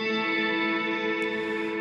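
A guitar reverb pedal set fully wet gives a steady, dense wash of sustained ringing tones with no dry attack, even and loud for the whole stretch.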